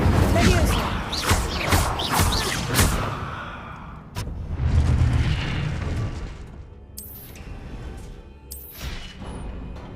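An Incendio fire spell cast in the Hogwarts Legacy video game, sending out a loud burst of whooshing flame and booming impacts that fade into rumbling crackle, with a voice calling out over it.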